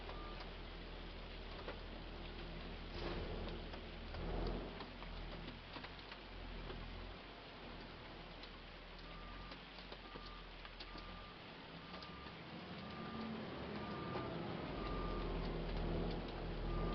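Steady rain falls in Farming Simulator 25, a continuous hiss with low rumbling thunder swelling underneath at times, no voices.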